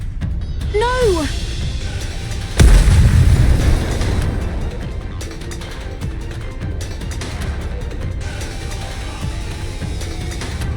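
Missiles firing wildly and exploding in the Stellar Blade video game: a loud burst and rumbling blast rises sharply, then fades into scattered crackles and debris under background effects while a voice speaks briefly.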